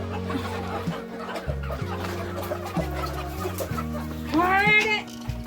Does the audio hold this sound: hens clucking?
yes